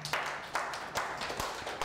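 Audience applause at a financial seminar, a steady wash of hands clapping with a few louder surges, fairly close and moderately loud, with no one talking over it.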